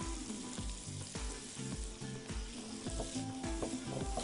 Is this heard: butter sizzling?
yes